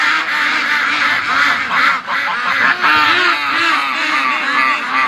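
Ducks quack steadily and loudly at close range, their calls half-buried in a constant roar of strong, gusting wind.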